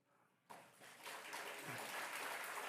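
Congregation at a Korean Sunday church service breaks into applause after a quiet moment, the clapping starting abruptly and swelling to a steady, full wash that holds to the end.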